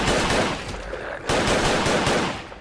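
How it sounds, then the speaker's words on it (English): Loud rapid gunfire from a gun in the Fallout 4 video game, two dense close bursts of rattling shots back to back with no talk. "This gun is devastated and loud."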